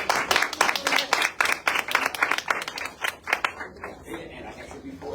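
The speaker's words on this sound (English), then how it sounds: "Big applause, big applause." Audience applause for an arriving guest, a burst of sharp uneven claps that thins out and fades after a few seconds, with voices talking in the background.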